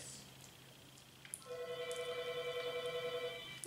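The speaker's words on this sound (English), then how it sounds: "And the phone's ringing now." Somewhere in a home a telephone starts ringing, its electronic tone rising after a quiet start and pulsing steadily at moderate volume for about two seconds.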